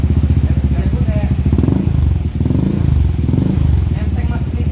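A motorcycle engine running smoothly, with a close, steady, rapid putter throughout and someone talking over it.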